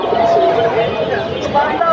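Pigeons coo amid a busy pigeon market in Khulna, Bangladesh, their calls blending into dense crowd chatter with people talking close by throughout.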